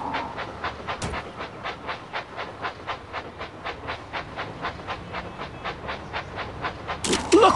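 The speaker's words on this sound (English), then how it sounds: "Clear the tracks, engine coming." Rhythmic chugging of a toy Thomas & Friends train engine, steady evenly spaced puffs building slightly, with a sharp burst near the end.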